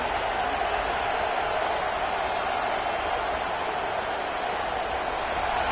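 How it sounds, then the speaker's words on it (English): Steady, dense crowd roar from a stadium in a PS5 football video game, a continuous broadband wash of cheering that holds at an even, loud level throughout with no pauses. "Listen to the crowd energy here in the early going"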